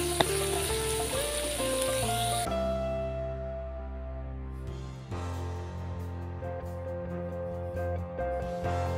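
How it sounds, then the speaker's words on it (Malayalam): Chopped onions and small onions sauté with salt in a hot pan for a prawn roast, giving a steady, close sizzle that runs the whole time with tonal background sounds and no talking. "സവാളയും നമുക്ക് ഇതിലേക്ക് ചേർത്ത് കൊടുത്ത് നന്നായിട്ട് വഴറ്റാം."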